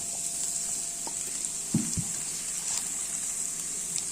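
Small onions dropped into hot oil for a Kerala-style long bean stir-fry, giving a steady, moderate sizzling hiss with a couple of soft knocks from the pan, and no talk.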